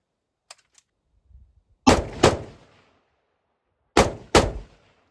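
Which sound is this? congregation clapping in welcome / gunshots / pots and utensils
gunshots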